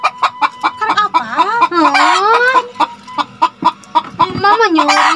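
Chicken clucking close by in a rapid series of sharp calls mixed with longer squawks, with voices chattering over them.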